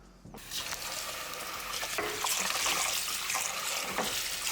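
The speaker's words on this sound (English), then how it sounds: "the next step, you have to wash the rice" Rice being washed by hand in water in a home kitchen while preparing Filipino chicken adobo; a steady, close swishing and splashing runs continuously after a brief quiet start, with no talk.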